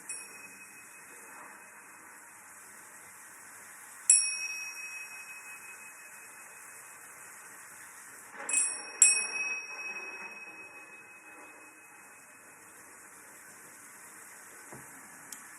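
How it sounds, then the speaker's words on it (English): A bell rung by hand, giving a clear ring, then two more strikes close together a few seconds later, each fading out over a quiet, faintly hissing background with no talk. "ring the bell 3 times"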